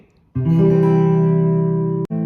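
A single guitar chord is strummed once and rings out sustained for about two seconds, then is briefly cut and struck again, clear and close.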